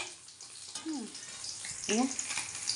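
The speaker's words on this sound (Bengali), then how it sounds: "এই যে মোরলা মাছের করছি কী বলে পকোড়া, এই যে এখানে পকোড়া ভাজতে নিয়ে নিয়েছি" Mourola fish pakoras frying in hot oil, a soft continuous sizzle under a woman's nearby speech.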